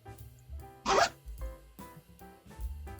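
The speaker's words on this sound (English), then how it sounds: "So there's the back zipper." A zipper on a sewn tote bag is drawn in one short, bright rasp near the middle, with softer handling rustle around it and no talking.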